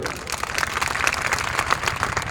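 Crowd at a public gathering clapping together in a loud, fairly even rhythm of many hands, continuous and close, with no talking over it.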